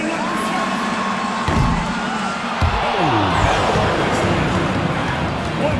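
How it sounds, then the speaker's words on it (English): A crowd at a basketball game cheers and shouts in a large arena, with a continuous roar of voices, whoops and some rising tones, fairly loud and sustained. "One more time, a round of applause."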